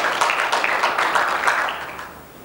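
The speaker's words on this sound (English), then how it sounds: "We can give a round of applause, please." Audience applause at an international benchmarking conference, a dense patter of many hands clapping at moderate distance, steady for two seconds and then fading out.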